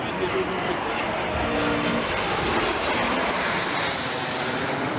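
Rafale fighter jets pass overhead during a July ceremony with air base 113, making a loud, continuous broadband roar that holds steady for several seconds.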